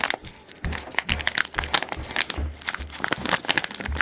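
Stylus packaging being torn open, close and busy with irregular crinkles, crackles and sharp rustling bursts of plastic and paper throughout, with no talking.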